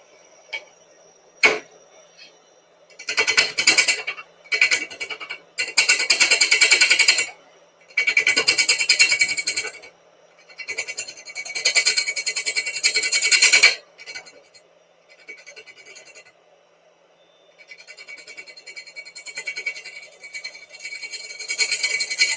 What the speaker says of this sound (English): Tools. 1/4 inch ball gouge, that'll do.